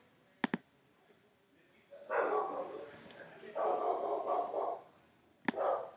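A neighbor's dog barks next door, a quick double bark at the start and another sharp bark near the end, with a person talking in between.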